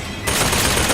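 Sustained gunfire in the video game BioShock Infinite, played with a Steam Controller: a loud, dense burst of rapid shots that starts abruptly and continues throughout.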